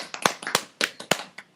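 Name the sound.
people clapping for a special guest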